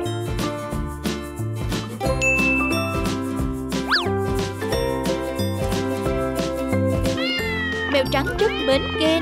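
A white cat meows repeatedly over a bright jingling tune with chimes, the mews rising and falling in short bursts near the end.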